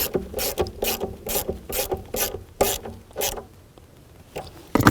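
A ratchet wrench clicks in quick bursts, about eight short rhythmic runs, as it snugs down a bolt on the passenger-side engine mount of a 2009–2017 Chevy Traverse; close and fairly loud, with a sharper clunk at the end.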